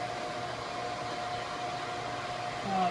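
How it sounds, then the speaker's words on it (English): A forge roars steadily at close range while heating a steel rod for heat treating, a constant breathy blower-like rush with no talk. "what I'm doing right now is I'm heating up my rod here"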